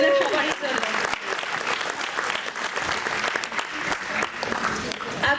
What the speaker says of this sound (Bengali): আরো একবার জোরে হাততালি হয়ে যাক সবারই জন্য